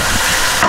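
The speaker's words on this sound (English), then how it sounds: "And then just cook that bacon through." Bacon sizzles and crackles while cooking until crisp in a pan, a steady broadband hiss that runs without pause through a short moment.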